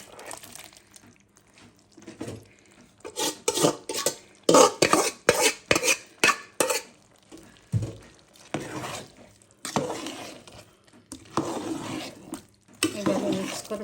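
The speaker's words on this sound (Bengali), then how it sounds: "এভাবে মিক্স করবেন, এখন দমে বসাই দিব, পুরো সম্পূর্ণটা হয়ে যাবে।" Chicken meat is stirred into a pot of morog polao with milk, a spoon scraping and clattering against the pot in uneven bursts of knocks, with soft sizzling between the strokes.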